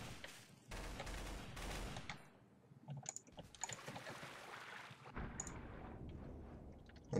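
Rapid bursts of gunfire from a Garry's Mod Trouble in Terrorist Town round, loud volleys and clusters of shots coming in waves with brief gaps between them.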